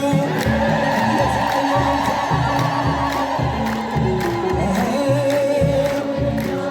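A crowd ululates in a long, high, trilling wave over a rhythmic drum beat during an Ethiopian Orthodox hymn to Saint Mary, loud and continuous from start to finish.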